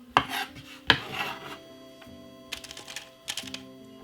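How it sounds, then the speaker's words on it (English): A knife cuts a spring onion on a board in a home kitchen, with a few separate sharp taps and scraping strokes spaced irregularly, close and fairly loud, against a faint background hum. "Cut up a spring onion a little bit small."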